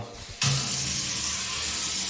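Water gushes from a tap in a newly built house. After a quiet moment it switches on abruptly and then pours at a loud, steady rush close by.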